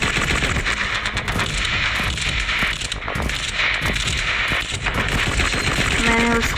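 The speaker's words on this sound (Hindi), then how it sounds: "मेरे गोलियों की फायर से खत्म कर दिया है, ब्लास्ट कर दिया, ब्लास्ट।" Rapid bursts of automatic gunfire crackle continuously in a shooting video game, dense and loud throughout with short gaps between volleys.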